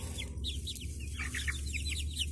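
Backyard chickens cluck in short, repeated soft bursts, close by and steady over a low background hum, with no talking.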